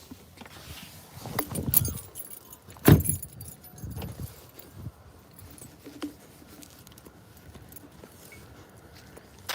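Keys jangling on an early morning walk toward the beach, a few bright metallic rattles and one sharp clink amid scuffing movement and a low outdoor hum, close and fairly loud with no talking.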